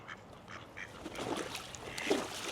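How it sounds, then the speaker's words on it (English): Ducks quack and call intermittently on open water at a pond outdoors, moderately near, over a faint steady background of wind and water with no talking. "Oh, so pretty. I love ducks."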